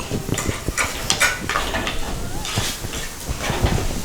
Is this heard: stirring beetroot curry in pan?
yes